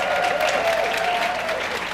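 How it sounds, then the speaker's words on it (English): Hospital staff and onlookers applaud at a children's hospital Christmas gathering in Leeds: close, loud, continuous clapping from a crowd, with a faint sustained tone running beneath it. "I think you deserve a round of applause"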